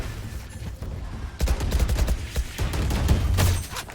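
Rapid bursts of automatic gunfire in Valorant, several close volleys of sharp shots tumbling over one another at a steady loud level, with no talk.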